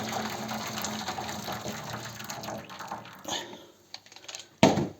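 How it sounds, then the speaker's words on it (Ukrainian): Two liters of hot water pour steadily into a metal baking tray with a gushing, splashing rush, then taper off, followed by a few clanks and a sharp metallic knock. "тут я вливаю 2 літри води у цю бляху"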